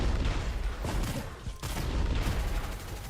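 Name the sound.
explosive bullets being fired in a video game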